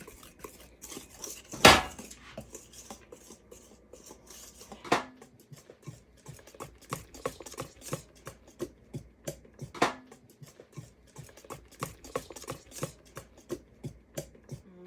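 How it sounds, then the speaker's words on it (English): A whisk works salt and flour into a thick brownie batter in a bowl, giving a fast, steady stream of soft scraping and tapping strokes with a few louder knocks against the bowl. "add 1 teaspoon of salt and 1 cup of all-purpose flour into the brownie batter and whisk them into it"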